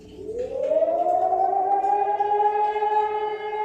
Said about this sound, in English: Is that an air raid siren?